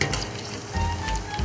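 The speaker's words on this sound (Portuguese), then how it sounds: "Minhas batatas a fritar." Potatoes fry in a pan with a steady close sizzle and crackle, dense and continuous, with no voices.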